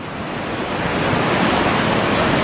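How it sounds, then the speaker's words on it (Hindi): The swollen Ganges river rushes with a loud, continuous roar of churning waves, a dense, steady wash of water noise filling the scene without any voices. "3 महीनों में गंगा जी का विस्तार, ये लहरें और गंगा जी का शोर।"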